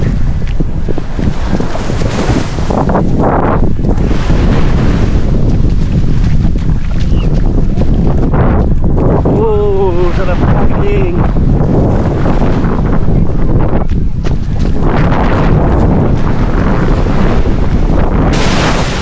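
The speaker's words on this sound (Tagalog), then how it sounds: "Nandito tayo sa tabing dagat." Steady roar of wind and surf at a beach in Batangas, loud and continuous, with gusts buffeting the microphone throughout.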